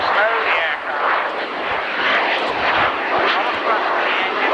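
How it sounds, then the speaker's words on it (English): A military jet at a 1991 air show roars steadily overhead, flying slowly with its nose pitched up and air brakes out, loud and broad, while an announcer talks over it. "Nose cocked up, slow the aircraft."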